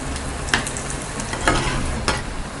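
Potato vada for vada pav fry in oil on a low flame, a soft continuous sizzle with a few sharper scraping clinks as the pieces are turned slowly, and no talk.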